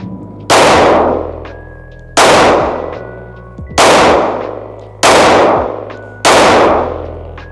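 A Smith & Wesson M&P 5.7 full-size pistol fires five loud, close shots at an even pace about one and a half seconds apart, each crack ringing out and fading before the next, with no talking.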